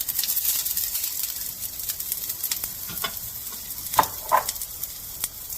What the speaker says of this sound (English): We are going to add in our onions first to the bottom of the pan.